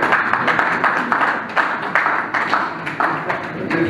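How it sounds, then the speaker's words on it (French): A room of delegates at the Togo national Olympic committee election meeting applauds after a unanimous vote, sustained crowd clapping with distinct sharp claps standing out throughout. "Vous pouvez applaudir"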